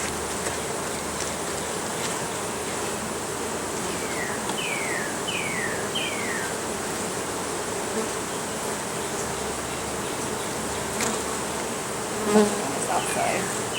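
Honey bees buzz in a dense, continuous hum during a hive inspection, with individual bees droning close by and a few brief knocks of equipment, with no talking.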